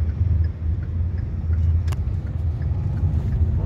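Kia Sonet 1.5 diesel automatic crawling through traffic, a low steady engine rumble and road noise from inside the cabin with no talking.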